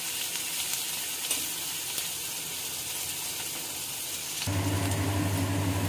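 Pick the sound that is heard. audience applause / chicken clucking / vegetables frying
vegetables frying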